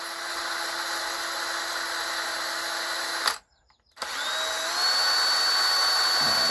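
A small power tool with a spinning wheel cleans soldered 1:100 scale model handrails, giving a steady high whine that cuts out briefly, then restarts and rises in pitch as it spins back up.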